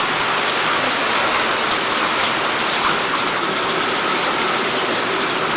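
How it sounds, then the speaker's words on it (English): Heavy hurricane rain, from Hurricane Charley in 2004, pours in a loud, constant roar with storm-force winds, a dense wash of driving water with no letup. "Sheets of rain blow by the streetlights. The trees blow. Storm force winds."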